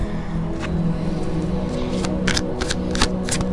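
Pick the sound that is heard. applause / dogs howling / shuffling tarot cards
shuffling tarot cards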